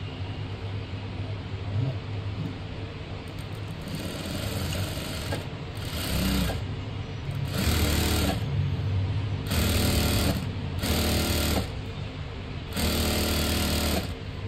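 A sewing machine stitches palazzo pants in a rapid, loud, continuous run that speeds up into repeated pulsing bursts, the motor's chatter close and dominant over a low background hum.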